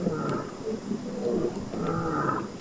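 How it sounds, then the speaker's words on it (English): Lions roaring in the Serengeti, a pair of deep, resonant roars with grunting tails, heard from a moderate distance against a quiet background. "That sound is lions, the exact same sound we heard the other day when we were right by the Pride."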